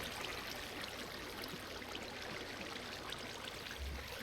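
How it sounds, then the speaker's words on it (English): Water flows steadily in the Minecraft modpack SevTech Ages with a soft, continuous trickling wash that never lets up, faint and distant, with no voices. "Water's coming from somewhere, and I'd be willing to bet it's above ground."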